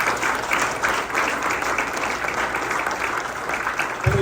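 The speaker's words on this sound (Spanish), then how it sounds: "Denle un fuerte aplauso." Loud, sustained applause from a church congregation, dense steady clapping filling the space throughout with no pause.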